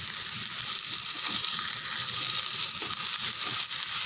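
Broad beans sauté in a pan for a stir-fried side dish, giving a steady, close, hissing sizzle with faint irregular crackles throughout and no voices.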